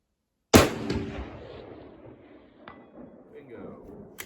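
One loud, sharp shot from a budget precision rifle at an outdoor PRS match cracks suddenly and then rolls away in a long fading echo, with a few faint distant ticks afterward.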